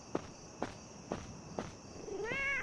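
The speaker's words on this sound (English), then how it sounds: "That's a cat." A cat in the horror game Nightmare of Decay. Four evenly spaced soft footsteps are followed by a rising, wavering meow over a faint steady hum.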